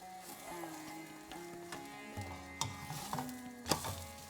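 Saag aloo paratha cooks in oil on a pan, a soft sizzle with a few scraping stirs and light clicks, faint and close.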